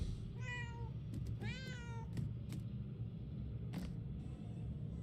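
A cat meows twice in quick succession inside the video game Murdered: Soul Suspect, the calls clear and close over a low ambient rumble, followed by a few soft clicks and taps.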